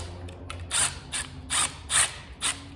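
A puller working a Sanden A/C compressor clutch plate loose, giving a close series of five sharp metallic clicks and ratcheting bursts at a steady rhythm, with no speech.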